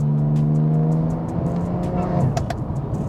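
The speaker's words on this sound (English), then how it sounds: "you just hear this like suction sound, and then it's like a blow off valve when you let off" BMW G80 M3 with new intake mods, revving then lifting off: a loud engine tone with intake suction falls away, followed by short sharp blow-off valve bursts near the end, heard close from the car.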